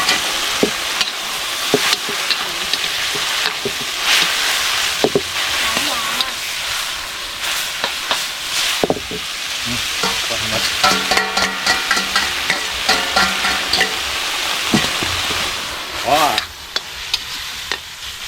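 Water spinach sizzling loudly in a flaming hot wok, with frequent scraping stirs and clanks of a utensil against the pan, close by and continuous.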